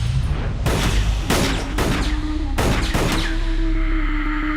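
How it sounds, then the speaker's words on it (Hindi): Bursts of movie-style gunfire as bullets are pumped into a dummy, with several loud volleys of shots and booming impacts separated by short gaps, close and dominant. "ये सारी गोलियां तू उस पुतले के सीने में उतार कर क्या साबित करना चाहता है?"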